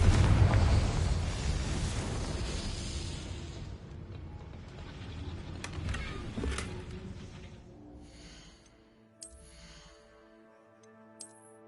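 A Confringo fire spell blast in Hogwarts Legacy bursts loudly at the start, then rumbles and fades over several seconds into quieter crackles, soft clicks and faint magical tones.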